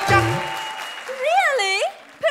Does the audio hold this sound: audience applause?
yes